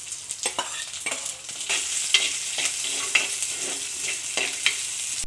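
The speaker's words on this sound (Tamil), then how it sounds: "இப்போ இந்த வெங்காயத்தை போட்டுடலாம்." Sliced onion hits hot oil in a pan along with crumbled vadagam while cooking a Tamil lunch. A continuous crackling sizzle is broken by repeated scraping stirs of a spoon, close and alone.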